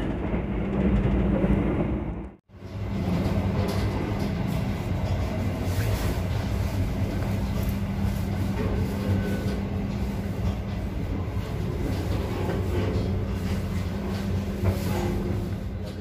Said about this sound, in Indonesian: Sebentar lagi keretanya akan merapat stasiun Klaten.